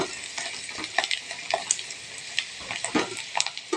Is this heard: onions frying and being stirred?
yes